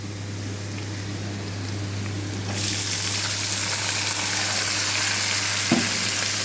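Dried red chilli and garlic sizzling in hot oil for sirukeerai poriyal, then sliced onion drops in and the frying swells into a louder, denser hiss with a single soft knock near the end.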